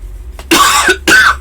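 Two loud, harsh coughs close to the microphone, the second following shortly after the first, with a short throaty breath between.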